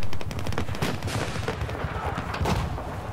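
Rapid gunfire in the video game Battlefield 4, close and loud, with quick bursts of automatic shots and heavier sniper cracks rattling without pause over a low rumble.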